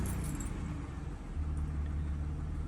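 A 2007 Toyota Camry engine turns over and settles into a steady low idle rumble close by, continuous throughout with no voices.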